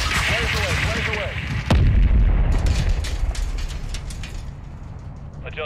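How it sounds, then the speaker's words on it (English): Modern Warfare II battle with a heavy explosive boom partway through, followed by rolling rumble and a string of sharp gunfire cracks, while a voice speaks over the chaos early on. "We're taking fire from the south"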